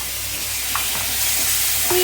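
Spices dropped into hot oil in a pan, a steady loud sizzle with some stirring scrapes, close and continuous with no talking.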